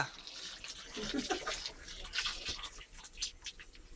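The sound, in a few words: pouring water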